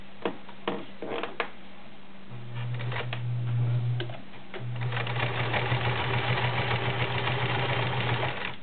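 A vintage 1931 Kenmore convertible free-arm sewing machine with a size 16 needle stitches through five layers of denim. A few soft clicks come first, then a steady close mechanical whir in two long runs with a short pause between them.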